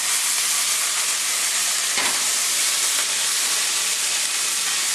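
Beef strips frying in hot oil in a pan, a steady, loud, unbroken sizzle and hiss close up with no talking.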